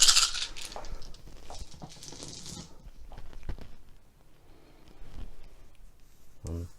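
A handful of dice rolled across a table in a Grimdark Future tabletop wargame, a rattling scatter of clicks and clatter up front, then scattered lighter taps and a settling tumble near the end.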